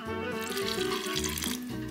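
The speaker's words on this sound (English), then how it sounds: "This is hot water. It's not boiling, but it's hot water." Hot, not boiling, water poured steadily from a container while making Riojana-style Argentinian empanadas, a continuous close splashing stream lasting about two seconds.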